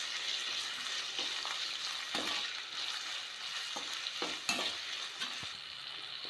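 Sliced onions and green chillies sauté in a pan, a continuous close sizzle broken by the scrape and clatter of a spatula stirring every second or so.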